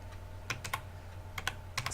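Typing on a computer keyboard, a few short bursts of key clicks separated by pauses, close and moderately loud over a steady low hum.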